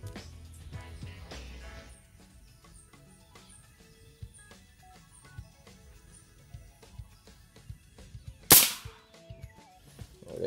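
A single sharp crack from a 9mm PCP air rifle firing at a lighter target rings out near the end, preceded by quiet rustling and small clicks.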